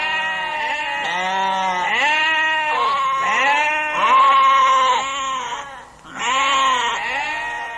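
Goats bleat loudly and close by, a run of long wavering cries that overlap one after another with only brief gaps, and no voices.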